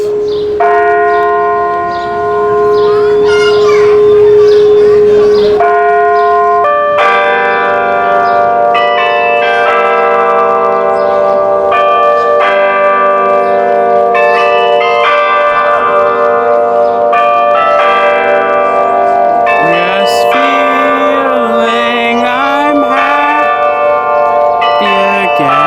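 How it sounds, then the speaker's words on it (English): A bell struck by mechanical monkey figures atop a zoo clock in New York City's Central Park Zoo rings out loud and sustained, its ringing tones layered and overlapping for the whole stretch. "You see the monkeys up top ringing the bell?"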